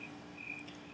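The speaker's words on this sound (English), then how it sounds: "You might hear some crickets chirping in the background" Crickets chirp outdoors on a summer evening beside a paver patio, a steady high trilling pulse repeating every fraction of a second against faint background hiss, with no voices.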